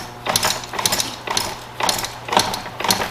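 Rear suspension on a 2025 Victrip R5S folding e-bike is pushed down and released repeatedly, giving a rhythmic run of close mechanical clicks and creaks about twice a second.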